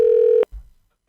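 A single steady telephone dialing tone sounds for under half a second, then cuts off abruptly, followed by a brief low thump and silence.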